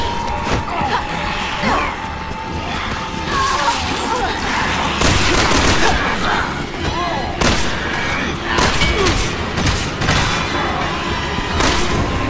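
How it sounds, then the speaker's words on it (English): Video-game gunfire from Resident Evil 6 rattles on in dense, repeated bursts and booming blasts, loud and continuous throughout. "But at least now you can move around while you're shooting."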